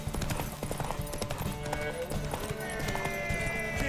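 Horse hooves clip-clop in a steady rapid gallop in the video game The Witcher 3, with a horse's whinny and game music in the background.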